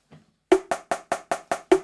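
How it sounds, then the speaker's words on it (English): A drum-kit single stroke seven rudiment is played as seven quick, evenly spaced, crisp hits after a faint lead-in tap, close and loud. "we've got a single stroke 7"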